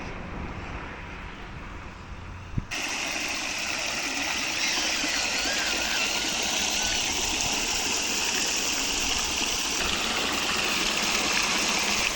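A stream of water flowing close by, a dense steady rushing wash that grows louder after a brief thump and continues unbroken.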